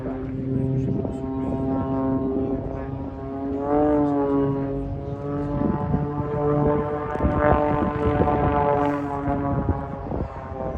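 A propeller aircraft drones overhead during aerobatics at an air show in Swansea, Wales, its engine tone rising and falling continuously while a commentator talks over it.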